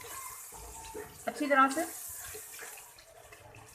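Water splashed into sizzling beef liver (kaleji) masala in a hot pan: a short hissing burst midway, under someone speaking.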